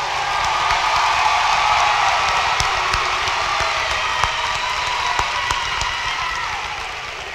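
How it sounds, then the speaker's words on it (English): Graduation audience at a 2022 high school ceremony breaking into broad applause and cheering for honor graduates, a large roomy crowd wash of clapping with whoops and shouts that gradually fades toward the end. "Let's give a round of applause for our honor graduates."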